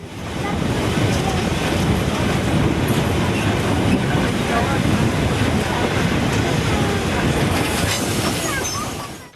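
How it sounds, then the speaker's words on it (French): A mountain railway train with a locomotive pulls in at the Brocken summit in the Harz, rolling wagons giving a steady loud rumble with faint clickety-clack and wind noise throughout, no voices. "À peine arrivée, notre locomotive est décrochée et part se mettre en place de l'autre côté de la rame pour redescendre"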